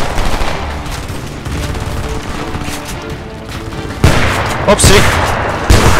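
Gunfire in the video game Homefront rattles in dense, continuous bursts with a few louder sharp shots near the end, while someone talks over the shooting.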